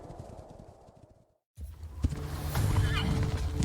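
A Mongol horse in Age of Empires IV gives a sharp neigh after a brief silence, with hoof clatter and a busy battlefield din around it.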